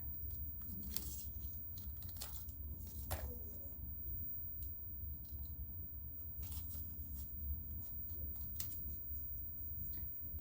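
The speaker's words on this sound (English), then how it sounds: "And now I'm going to cut these little triangles here." Scissors snip paper into small triangles in a series of crisp, close cuts at an uneven pace, fairly quiet over a low background hum.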